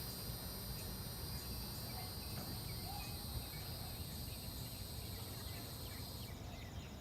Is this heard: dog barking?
no